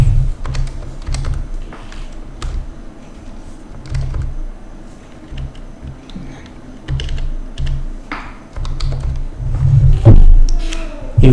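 Quick bursts of clicky keystrokes on a computer keyboard as a custom size is typed in, scattered taps in short runs close to the mic, with light room noise between them.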